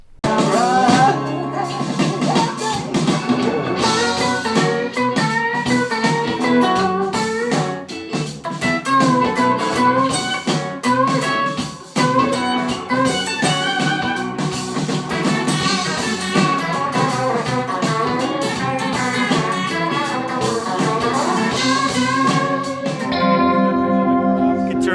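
Electric guitar playing a busy lead line through an inexpensive analog vibrato pedal set very fast, a warbling effect, loud and continuous with dense, shimmering tone.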